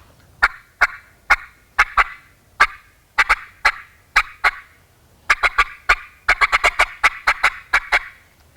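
Rapid, sharp turkey clucks known as cutting are made on a mouth call, starting as spaced single clicks and quickening into dense, excited bursts, close and loud, imitating a wild turkey.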